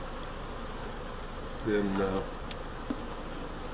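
Honey bees from a shipped bee package hum steadily while being installed into an Apimaye hive, with a brief louder buzz rising out of the drone and a spoken word briefly over it.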